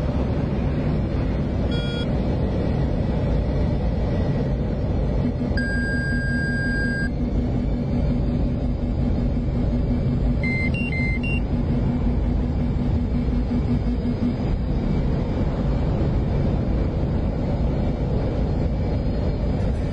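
An aircraft in the DCS flight simulator game, a loud, steady engine roar that holds throughout, with a few brief electronic beeps and tones sounding over it.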